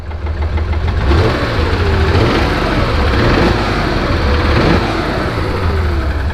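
The engine of a 1966 Porsche 911 2.0-litre runs steadily at idle, close up in the engine compartment, with a continuous rumbling hum and faint rhythmic clock-like ticking. No voices.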